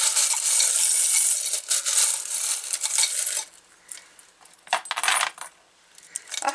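A jar of small spiritual trinkets is shaken and mixed, giving a loud, dense metallic rattle and clatter like coins tumbling, which eases into sparser, irregular clinks and jostles toward the end.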